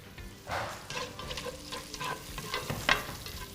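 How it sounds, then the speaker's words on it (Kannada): Onions frying in ghee and oil in an earthenware pot give a soft, close sizzle broken by repeated scraping strokes of stirring, fairly quiet overall. "ತುಪ್ಪ ಮತ್ತು ಎಣ್ಣೆಯಲ್ಲಿ ಈರುಳ್ಳಿನ ಚೆನ್ನಾಗಿ ಫ್ರೈ ಮಾಡ್ತಾ ಇದೀವಿ"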